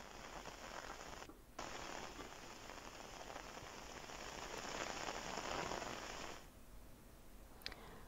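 Heavy monsoon rain pours steadily at Panhala fort in Maharashtra, a dense, even hiss of drops on surfaces throughout, with a brief cut early on and a softer stretch toward the end.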